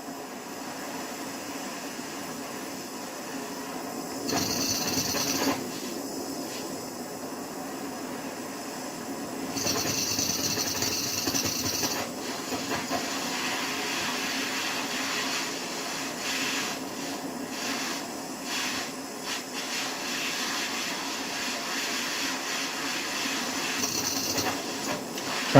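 Heat gun blowing hot air onto a paint-covered RCA jack on a Sony Trinitron TV/monitor, a steady close airy hiss with slight shifts as the tool moves, no talk.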